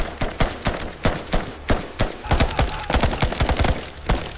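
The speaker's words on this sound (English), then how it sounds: "Two rifles suddenly unleashed a deadly wall of fire." Rifle fire from a 1968 firefight rings out as a rapid burst of sharp, loud shots, roughly a dozen or more cracks fired in quick succession over a few seconds.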